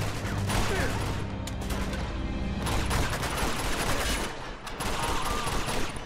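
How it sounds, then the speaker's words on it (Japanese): Enemy gunfire in the action game Uncharted: Among Thieves, loud and near, with dense rapid bursts and sharp shots that run continuously over a rumbling backdrop. "いった、どっから撃ってる。"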